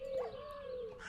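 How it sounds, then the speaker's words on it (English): A bird mob in the Minecraft game gives a short, soft cooing call, a single smooth note lasting about a second, quiet and alone. "Bird."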